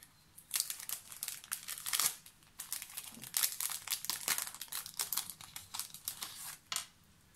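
A crinkly plastic package of paper "It's a Girl" die-cuts being opened, with close, busy crackling and rustling bursts that carry on for several seconds, alone without speech.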